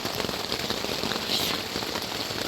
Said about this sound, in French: il a arrêté de pleuvoir pendant 3 heures et là ça recommence